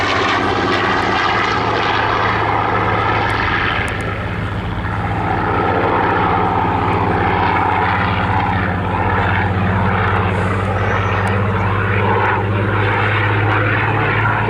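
A Rolls-Royce-engined Spitfire PR XIX, serial PS853, flies at the Southport Airshow, its piston engine droning loud and continuous as it passes overhead for the whole stretch, with no speech.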